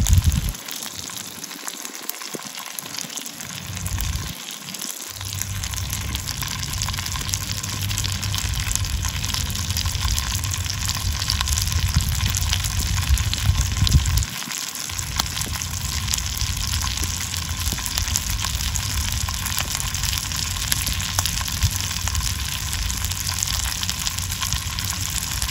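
Dried fish (tuyo) fries on a Firebox Nano stove with a continuous, dense sizzle and hiss, close and steady for most of the stretch, after a few quieter moments at the start, with no talking.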